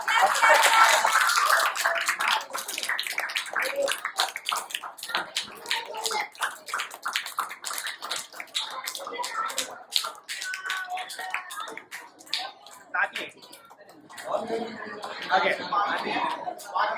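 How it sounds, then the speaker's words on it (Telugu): Clapping for the teachers at a Vacation Bible School day: a dense, continuous run of sharp hand claps from a group, steady through the whole stretch, with voices talking over it. "చప్పట్లు గట్టిగా."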